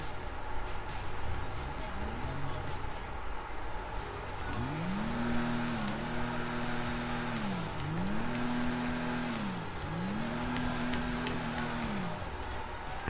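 A Vulcar Nebula Turbo in GTA Online revs repeatedly, its engine note climbing and falling in several rising-and-settling sweeps over a steady background rumble.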